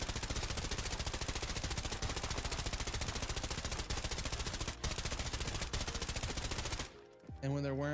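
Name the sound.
gunfire from the 995 weapon in video game Arena Breakout: Infinite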